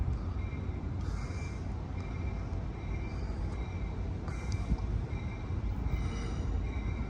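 Amtrak San Joaquin train 716 rolls into Emeryville station behind locomotive 8303 Mount Diablo, a steady rumble of rail noise throughout with faint squeals on top.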